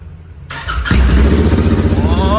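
A Royal Enfield Interceptor 650 motorcycle with its exhaust removed starts up: a quiet moment, then a click and crank before the engine catches into a loud, close, pulsing idle.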